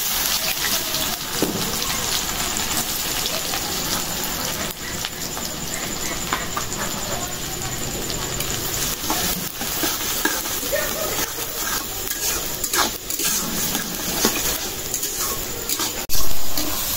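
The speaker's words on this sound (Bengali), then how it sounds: "তেল গরম হয়ে গেছে, দিয়ে দিলাম পেঁয়াজ কুচি।" Finely chopped onion, with a bay leaf, hits hot oil in a pan and sets off a loud, steady sizzle of dense hiss and crackle that runs throughout without a break.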